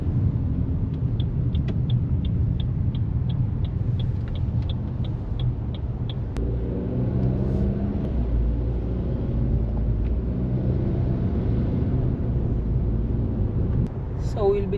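Steady engine and road rumble from a car driving through the city streets of Gqeberha (Port Elizabeth), South Africa, with wind buffeting throughout and faint ticking near the start.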